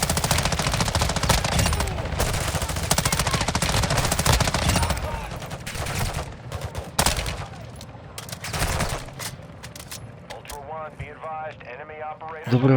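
Rapid bursts of automatic gunfire in Call of Duty: Modern Warfare II Warzone 2.0 DMZ, including a bot shooting, rattle almost continuously, loud and dense, then thin out into scattered shots while a voice talks over them.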